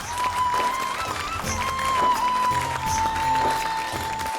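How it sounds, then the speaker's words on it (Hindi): Studio audience applause rises and holds through a game show taping, a steady broadband wash of clapping with a faint tone running underneath and no speech. "जोरदार तालियां।"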